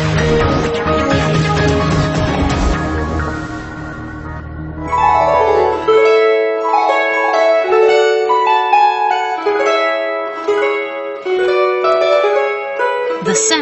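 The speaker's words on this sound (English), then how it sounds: "It's the sound of Russia's oldest musical instrument, Gusli." Gusli, the old Russian plucked string instrument, played in a bright cascade of ringing strings, busy and full at first, then sparser glittering runs of notes that linger and overlap.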